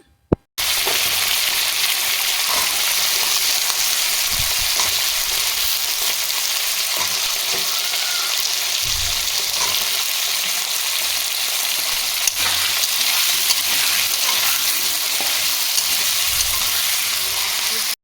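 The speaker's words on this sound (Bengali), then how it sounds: "এভাবে তেলের ওপর ফোড়ন দিয়ে আলুটা ভাজলে একেবারে হয়ে যায়" Potato pieces fry with spices in oil, giving a loud, continuous sizzle that holds steady for a long stretch, with occasional soft stirring knocks and no speech.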